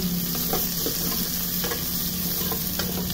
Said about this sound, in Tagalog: Pagkalagay nga natin ang onion, halu-haluin lang.